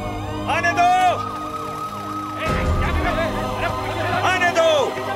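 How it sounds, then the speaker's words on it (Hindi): An ambulance siren wails and yelps loudly over a crowd of excited voices at a street scene, holding steady through the whole stretch. "जल्दी करो, एम्बुलेंस को आने का रास्ता दो।"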